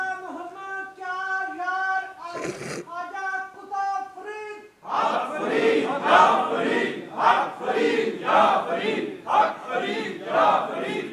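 At an Urs gathering, a leader's long sung call gives way to a crowd shouting a religious slogan in loud, rhythmic bursts, the massed voices rising and falling in repeated waves.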